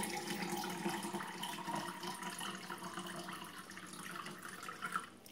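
Water trickles and splashes steadily into an MRE fruit punch carb-electrolyte drink pouch, a close, continuous pour lasting several seconds with a small burst near the end.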